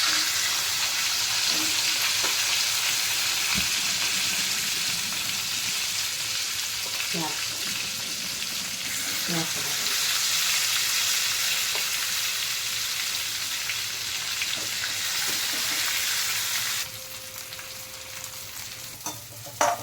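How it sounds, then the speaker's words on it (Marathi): Spice-stuffed eggplants frying in oil, a loud continuous close sizzle with a few clinks and stirring knocks, easing to a quieter crackle near the end. "आणि हे असं तेलात सोडायचं मसाला घातल्यावर."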